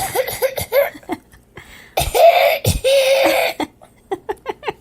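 Several short, sharp coughs in quick bursts, close to the mic, with a longer stretch of throaty coughing or laughter in the middle.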